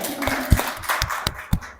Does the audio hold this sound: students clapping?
yes